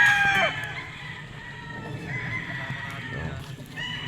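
Roosters crow and chickens call at a gamefowl farm, with a clear crow near the start and fainter bird calls later over steady outdoor background noise.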